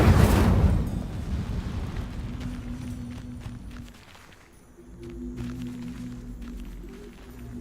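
Incendio fire spell cast in the video game Hogwarts Legacy, a loud roaring whoosh of flame at the start that fades into a low rumbling crackle and lingering drone.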